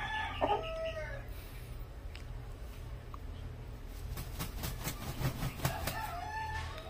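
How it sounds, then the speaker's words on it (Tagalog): A five-month-old Hatch gamecock with bulik plumage crows loudly nearby, followed by repeated clucking and further crowing, with a faint voice and farmyard background. "Malaking manok."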